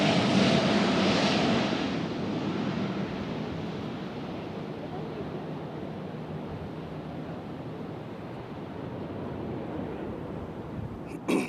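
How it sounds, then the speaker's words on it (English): A British Airways Airbus A350 jet at Nashville International Airport gives a broad, steady roar that begins louder and then settles into a sustained distant rush. "You're looking at the British Airways A350 that flew here from London Heathrow."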